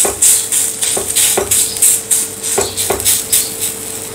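Thalipeeth dough being patted by hand onto a griddle: a series of crisp, fairly loud slaps and taps in an uneven rhythm, with faint clinks between them and no talk.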